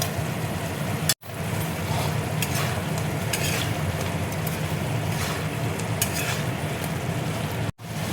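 Puti fish sizzle and fry in mustard oil in a pan, a close, steady crackling hiss that runs throughout. It breaks off abruptly twice and there is no talking.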